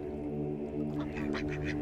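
Migratory water birds on a saline desert wetland lake in Tharparkar, with duck-like quacking calls over a steady droning hum.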